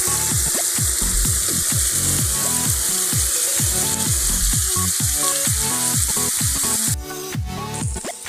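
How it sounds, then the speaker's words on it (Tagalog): Garlic and onion sizzle and crackle in a hot pan, with rhythmic stirring scrapes throughout and a brief faucet-like rush of water near the end. "inigisa ko lang muna ang ating maraming bawang, sibuyas"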